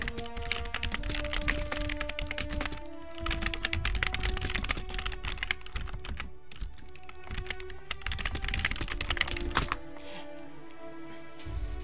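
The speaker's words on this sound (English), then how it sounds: "All right, typing ASMR." Fast, continuous clicking on a computer keyboard at a PC game session, dense close keystrokes with brief pauses and steady background tones, no talking.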